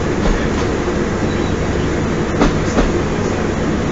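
Train at Bedford St John's station, a loud steady rumble from on board or close by with faint clicking of wheels over joints and no voices.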